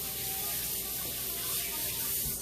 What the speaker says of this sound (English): You just spray it and it cleans.